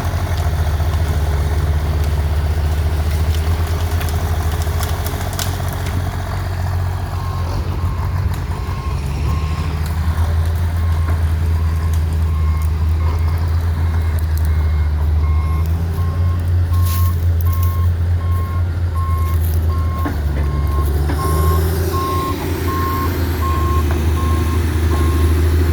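Two John Deere log skidders clear a loading area with heavy diesel engines rumbling continuously and loud, while a repeated reversing beep sounds steadily over the engine noise for much of the stretch, with no talking.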